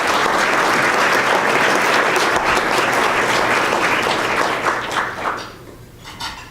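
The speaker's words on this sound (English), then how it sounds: "May I hear a round of applause for the sponsors?" Dinner guests at a chamber of commerce Iftar event applaud the sponsors with loud, sustained clapping that thins out and fades toward the end, leaving a few scattered claps.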